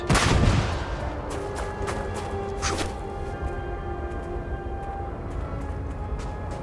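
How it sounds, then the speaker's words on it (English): A grenade explodes in the video game Starfield with a loud deep boom and a short burst of debris crackle, followed by a low rumbling tail that fades slowly. "That is a grenade."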